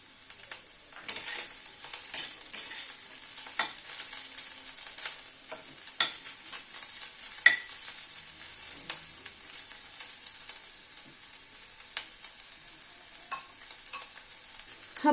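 Chopped capsicum frying in a pan with ginger paste for an egg Schezwan curry, a steady bright sizzle throughout with repeated scraping clicks of a spatula stirring, close and without talk.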